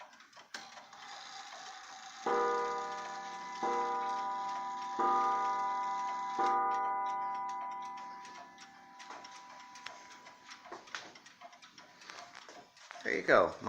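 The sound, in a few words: antique black mantel clock ticking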